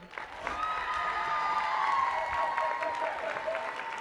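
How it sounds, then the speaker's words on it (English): Applause from a graduation ceremony audience, steady loud clapping with some cheering that swells quickly and holds throughout. "clap it up"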